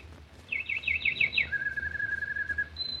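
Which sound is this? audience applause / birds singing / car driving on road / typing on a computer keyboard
birds singing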